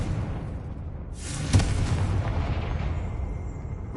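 A Confringo fire spell bursts in the Hogwarts Legacy video game, a single sharp booming explosion rising out of low ambient rumble, followed by a lingering crackling roar that slowly fades.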